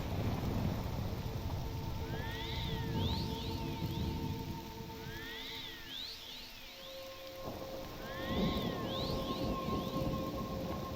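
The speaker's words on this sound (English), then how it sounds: "Why is it always raining in this god-forsaken place?" Rain falls continuously in the video game Morrowind, with rolling low thunder swelling and fading and faint repeated chirping calls over the downpour.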